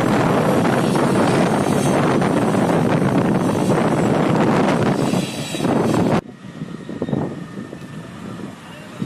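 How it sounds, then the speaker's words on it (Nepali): An Indian Air Force helicopter making a test landing on an open ground, its loud, close rotor roar and gusting wind noise filling the first six seconds before dropping to a quieter rumble. "भारतीय टोली इन्डियन एयर फोर्सको हेलिकप्टर 12 बिघामा परीक्षण अवतरण गराएका छन्"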